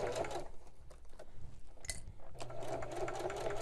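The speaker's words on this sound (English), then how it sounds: "So we're just going to sew all the way around." A sewing machine runs steadily, stitching around the edge of a quilted chicken-shaped oven mitt, its motor whirring continuously and close up, with a short pause in the middle before it picks up again.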